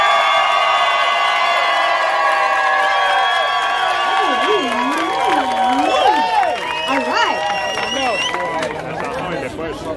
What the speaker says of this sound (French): Xavier et Audrey, on applaudit.